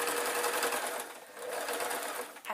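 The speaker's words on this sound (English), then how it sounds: "And just sew that last one in, making sure I've got all the fabric" A sewing machine stitches fabric strips together for a rag rug, its steady whirring motor running close and loud almost without pause, with a short dip near the middle before the stitching resumes.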